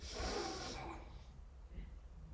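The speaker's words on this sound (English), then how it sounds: "I breathe in, and then I breathe out." A person slowly draws in a long, airy breath during a guided breathing exercise, close and clear, then trails off into a quiet pause with soft breath noise.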